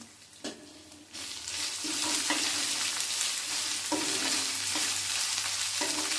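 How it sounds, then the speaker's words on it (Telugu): Curry leaves hitting hot oil in a pan while making a ridge gourd and moong dal curry, a sharp burst of sizzling that swells into a loud, steady crackling fry with a few stirring clinks. "కరివేపాకు ఒక రెమ్మ కరివేపాకు వేస్తున్నాం అండి"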